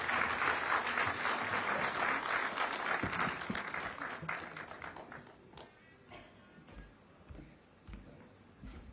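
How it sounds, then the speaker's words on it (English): A live audience at a heritage event applauds the musicians after their performance, a loud dense round of clapping that fades over several seconds into scattered individual claps. "Let's give a round of applause to the musicians."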